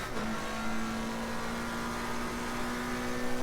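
A McLaren 720S Evo accelerates around Spa in a racing game, its engine note rising steadily as a sustained, mid-loud drone with no voices.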